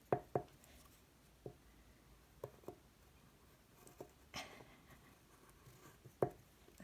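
A pen writing and tracing on paper, quiet close-up strokes and soft scratches with a few sharper taps scattered irregularly over a faint, hushed background.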